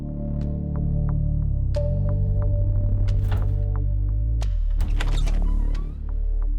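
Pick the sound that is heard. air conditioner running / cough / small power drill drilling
air conditioner running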